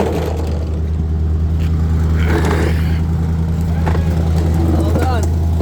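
Steady idle hum of a car or truck engine running in a workshop during a brake line job, a constant low drone under talking voices.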